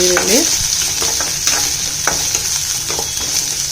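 Sliced small onion dropped into hot oil in a pan, a loud close crackling sizzle with a few sharp clicks of stirring over a constant hiss, no voices.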